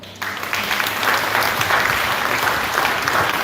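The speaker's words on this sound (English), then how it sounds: "Keep the applause going" Graduation audience at a primary school ceremony breaking into sustained applause, a loud, dense wash of many clapping hands that starts abruptly and holds steady throughout.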